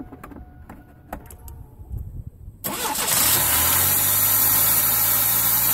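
A car engine cranks and fires into life in a mechanic's workshop after some quiet shuffling and clicks, then settles into a loud, steady, close-up idle with broadband roar.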